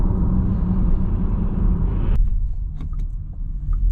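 Road-going 228 BHP electric car accelerating, a steady low rumble of road and tyre noise close inside the cabin that cuts off abruptly partway, leaving a softer hum with faint clicks.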